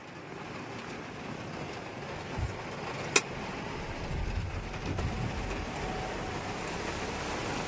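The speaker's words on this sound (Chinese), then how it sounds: "但是你看，现在外面下暴雨喽。" Heavy rain pours steadily outdoors at a lakeside fishing spot during a windy thunderstorm, a dense, fairly quiet wash of noise with a couple of brief knocks and no voices.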